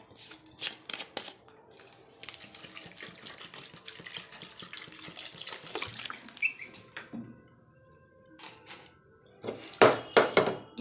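Water from a tap runs into a pressure cooker while chicken and potato are being prepared in a home kitchen; a steady splashing flow fills most of the clip, pauses briefly, then returns in louder bursts near the end.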